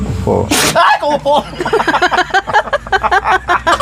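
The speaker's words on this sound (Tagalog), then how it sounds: "Bumahing. Nagbumahing ka." A short, sharp sneeze bursts out near the start, then people talk and exclaim close by.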